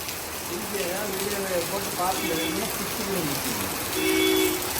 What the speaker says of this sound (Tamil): சாயந்தரம் ஆனா தினமும் மழை பெய்யுதுங்க.